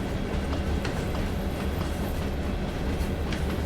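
A freight train rolls past in Train Sim World 5 on the Clinchfield Railroad on a snowy run, a steady close rumble of passing cars with faint rhythmic wheel clicks and no break.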